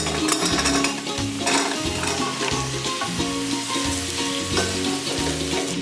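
Masala with garam masala and coriander powder sautéing with pumpkin in a pan, a loud continuous sizzle with rhythmic stirring and scraping throughout, no voices.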